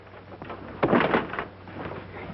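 An old door is rattled and shaken hard in a burst of clattering knocks partway through, amid faint background noise.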